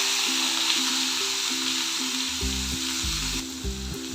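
Sliced onions fry in a pan for a fish kalia, giving a steady close sizzle throughout, with a few soft stirring knocks and scrapes partway through.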